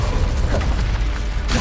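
Incendio fire spell cast in the video game Hogwarts Legacy, a loud, dense burst of roaring, crackling flame and low rumble running steadily for over a second, ending in a bright hiss.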